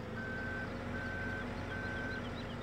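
A Toyota forklift reversing in Farming Simulator 17 gives three steady, evenly spaced electronic beeps over a constant low engine drone.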